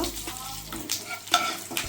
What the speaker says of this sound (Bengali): এবার আমি শাকটি ভাজার জন্যে দুটি শুকনো লঙ্কা ফোড়নে দেব